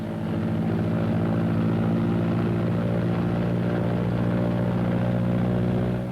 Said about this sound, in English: Next is the engine run-up and prop check, one engine at a time.